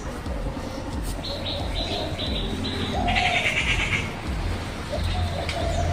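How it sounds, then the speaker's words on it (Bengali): Birds chirp and tweet in repeated short bursts around a Shiva temple's circumambulation path, moderately close over a steady outdoor background with no talking. "একটু শোনো পাখির,"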